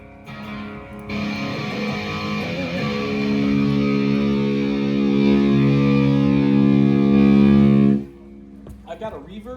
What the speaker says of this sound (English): So I've got a phaser, I've got a reverb. That actually stays on most of the time.